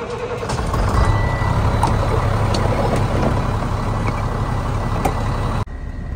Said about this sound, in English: So when we pick up hay, we do use the skid loader. It's a 320D by Deere with a accumulator tie grabber.